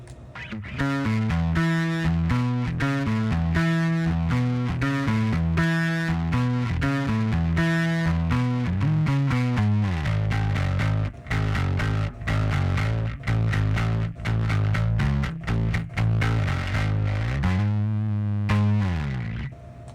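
Bass guitar riffs through a Stone Deaf Rise and Shine pedal, sounding gritty and distorted, repeated patterns and held low notes played loudly and alone.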